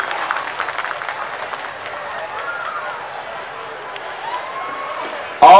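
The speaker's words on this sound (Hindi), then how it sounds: "एक बार आपके प्यार की तालियां" Audience applause at an Indian kavi sammelan poetry gathering, a broad steady wash of clapping from a crowd lasting several seconds, with a sharp louder burst near the end.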